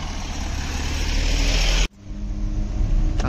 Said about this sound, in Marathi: काका बघा गाडी चालवतोय